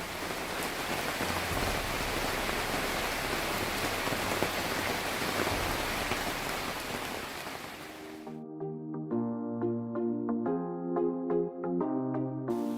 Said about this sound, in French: la pluie qui tombera toute la nuit jusqu'à 6 h du matin